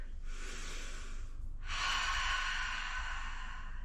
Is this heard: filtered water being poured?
no